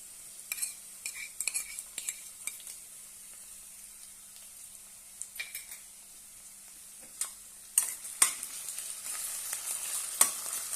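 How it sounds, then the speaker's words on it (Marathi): A ground paste of green chilies, garlic and cumin sautés in oil for methi thecha, giving a soft, steady sizzle close by, broken by occasional utensil scrapes and clicks that grow busier toward the end, with no speech. "छानपैकी तेलामध्ये परतून घेऊया"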